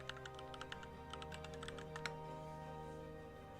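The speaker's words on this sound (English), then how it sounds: "Take the cover off my keyboard." Light clicks and taps from a computer keyboard being handled, a scattered run of faint keystroke sounds over a steady background hum that fade out partway through.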